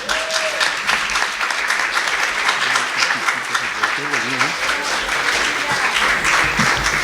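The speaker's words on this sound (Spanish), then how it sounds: "Un aplauso al Señor, hermano." A church congregation applauds, sustained dense clapping that fills the room with steady volume for several seconds, with voices talking and calling out underneath.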